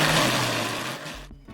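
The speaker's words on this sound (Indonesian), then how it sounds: "Untuk nasi putihnya aku akan blender terlebih dahulu." An electric blender whirs loudly, blending cooked white rice with a little water in a steady dense roar that cuts off abruptly near the end.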